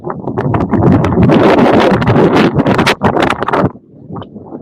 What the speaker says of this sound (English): look at here's how windy it is